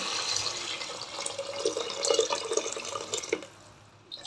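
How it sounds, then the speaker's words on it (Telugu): About a liter of water is poured over tamarind for rasam, a steady splashing, trickling pour close by that fades out near the end. "ఒక్క లీటర్ వేసానండి వాటరు ఆ చింతపండుకి"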